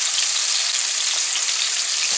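Butterfish frying in hot oil, a dense, loud, even crackle and sizzle throughout with tiny pops.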